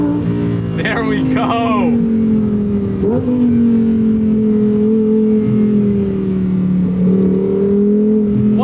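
A 2024 Lamborghini Huracan Sterrato's engine revs and sustains a loud, droning pitch, rising briefly early on and holding below its 8,500 RPM redline, with someone speaking briefly over it.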